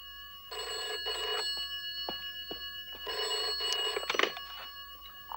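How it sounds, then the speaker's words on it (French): A telephone bell rings in two long bursts, loud and close, with a short pause between them and a brief clatter near the end. "téléphone!"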